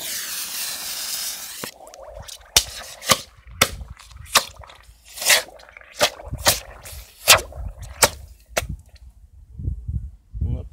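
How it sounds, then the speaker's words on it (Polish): A frog-style firecracker thrown into water goes off after a slow start: an initial fizz, then a rapid series of sharp, loud cracking pops at irregular intervals, with splashy, sputtering bursts in between. "żabki w wodzie odpalają. Trochę powoli to szło, ale odpaliło."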